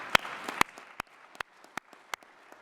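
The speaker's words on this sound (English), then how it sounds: "So a quick round of applause." Sparse, scattered clapping for Lyle Daniels at a conference address, a handful of distinct separate claps spaced irregularly over a quiet room rather than a full round of applause.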